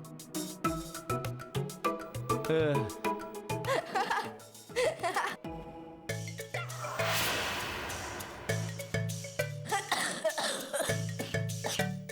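Repeated bursts of coughing after eating spicy chilli in a Hindi TV drama scene, loud and close, mixed with musical tones and other sounds.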